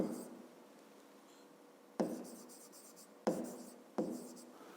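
Pen writing numbers in a school exercise book during a fifth-grade maths exercise, three quiet, sharp taps and scratches spaced a second or so apart in a hushed room.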